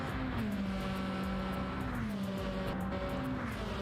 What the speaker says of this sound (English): This car's screaming.